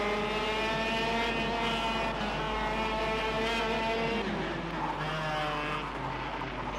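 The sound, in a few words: go-kart engine and sliding in video game KartKraft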